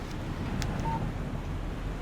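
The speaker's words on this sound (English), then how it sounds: "Text message from Barry." A short electronic beep of a mobile phone text message alert sounds once in the video game Alan Wake, a brief, faint tone over a low, steady background hiss.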